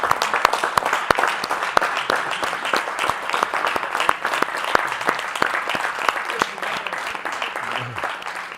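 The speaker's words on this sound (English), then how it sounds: "Give Mr. Who a hand clap" An audience at a livestreamed gathering gives a round of hand claps, individual sharp claps distinct within a steady crowd applause that carries on evenly for several seconds.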